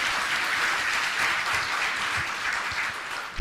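An audience at a spiritual question-and-answer gathering in Mirzapur, India, breaks into loud, sustained clapping that rolls on evenly for several seconds with no talking over it.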